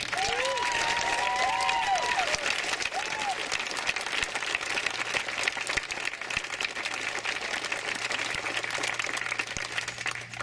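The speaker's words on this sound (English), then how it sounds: "Mark Larson, deserve a huge round of applause from all of us" A government audience at a health care bill signing claps steadily for about ten seconds, a dense, even patter of applause from a sizeable crowd, with a brief voice heard early on.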